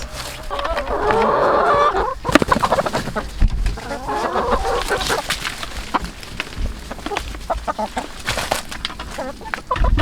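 Backyard chickens on a home farm cluck and squawk close by for about ten seconds, a steady burst of busy fowl chatter with a brief crow-like call, under faint background noise.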